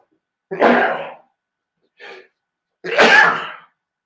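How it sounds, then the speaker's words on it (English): A violent human sneeze: a loud, close burst, a short quieter intake, then a second strong explosive sneeze, alone with no talk. "I'm back from a violent sneeze."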